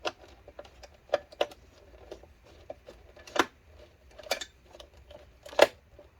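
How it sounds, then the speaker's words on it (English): Small screw being driven into the last piece of an HP Pavilion 24 all-in-one PC, heard as faint, close clicks and scrapes in an irregular rhythm against near silence. "Let's go ahead and screw that last piece in."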